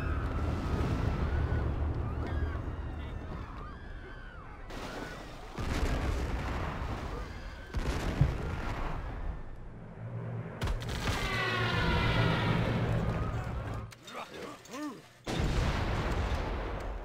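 Bombers strike Shanghai in a Civilization V WWII mod, with loud, continuous rumbling explosions and gunfire-like bursts that come in waves over wind-like roar, with brief drops between blasts.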